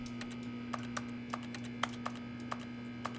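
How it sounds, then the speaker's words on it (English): In The Stanley Parable video game, soft typing-like clicks tap at an irregular pace over a steady electrical hum, faint and close with no voices. "I like how it sounds like a typing."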